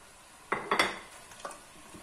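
Vegetables tipped into a pot of rib stew and stirred, giving a few quick clattering bursts with a soft sizzle, then quieter scraping, close and moderately loud with no talk.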